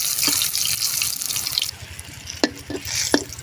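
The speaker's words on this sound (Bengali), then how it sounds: "এইভাবে ঢাইকে ঢাইকে হালকা আঁচে ভাজি করতে হবে আর উল্টোই পাল্টাই দিতে হবে।" Pumpkin slices sizzle in oil over low heat, a steady close crackle broken by a few sharp clinks of utensils being turned in the pan.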